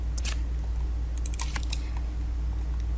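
Computer keyboard being typed on during spreadsheet work, a few light clicky keystrokes in short bursts over a constant low hum, close and fairly quiet.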